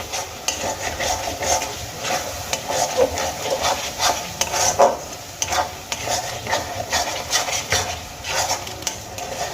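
Spices frying in oil in a pan for a Bengali-style methi dal, a steady close sizzle broken by a continuous run of spoon scrapes and stirring knocks against the pan.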